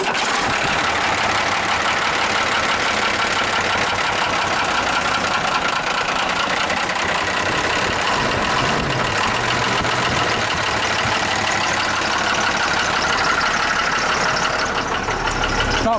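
An International truck engine runs steadily after a cold start, a loud, continuous idle with a rough knocking texture that holds for the whole stretch without talk.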